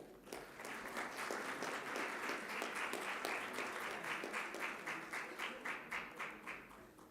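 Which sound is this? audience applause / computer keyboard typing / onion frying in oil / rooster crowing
audience applause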